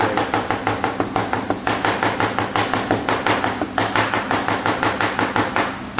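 Knife steadily chopping brinjal on a cutting board for village-style baingan bharta, a fast, even train of crisp, close taps running the whole way with no pauses or voices.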